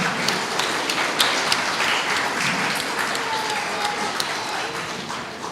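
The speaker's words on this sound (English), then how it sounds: "I think that deserves an applause." Audience applause at an Anglo-Indian Association awards and recognition event in Calcutta, a steady wash of many hands clapping in a reverberant hall, even and moderately loud, with no talking.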